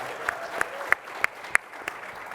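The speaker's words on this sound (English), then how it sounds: "James Lopez with the Play Equity Fund. Give him a huge round of applause." Applause from the audience at a play equity summit, with a few sharp claps standing out over a steady wash of clapping, moderately distant and fairly soft.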